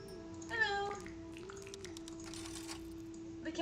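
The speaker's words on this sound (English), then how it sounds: "The cat sounds are very cute." Robo-Kitten cat meowing in the burger-making video game Galaxy Burger, a short rising-falling mew near the start, followed by faint game chimes and clicks over a steady background tone.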